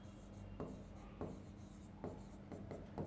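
Chalk or marker scratches on a board as a maths age problem is worked out, giving short, faint strokes that recur every half second or so against a soft room hum.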